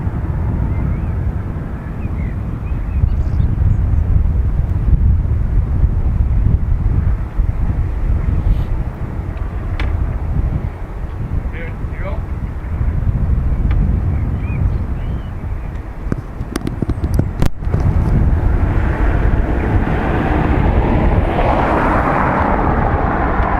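Airbus A330 airliner at Dublin Airport: a loud, sustained low engine roar with heavy wind rumble across the microphone, steady throughout and swelling toward the end.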